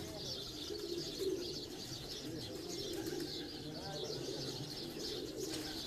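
Pigeons coo softly on a rooftop in a continuous, rolling murmur, faint and fairly distant, with a voice talking intermittently beneath the birds.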